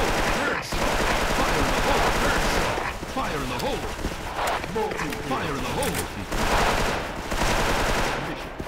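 Rapid rifle fire from an M4 in the online shooter Special Force, dense bursts of shots continuing throughout with a loud, busy mix of game sounds and a voice talking over it.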